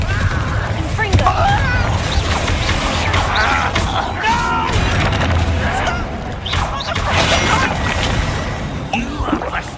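Confringo fire-blast spell cast in combat in Hogwarts Legacy on PC, giving repeated booming, crackling blasts through a dense, loud battle mix with shouting voices.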